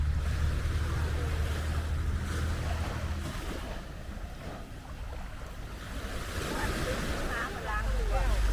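Sea waves roll onto the beach at Hat Mae Ramphueng, Rayong, under steady wind buffeting the microphone, a continuous loud wash of surf with rumbling low gusts throughout.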